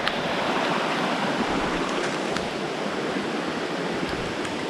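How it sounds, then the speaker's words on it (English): A small brook flows steadily past on a long-distance hiking trail, a close, continuous broadband rush and burble of water with light rain, no voices, holding constant throughout. "I found this pretty little brook."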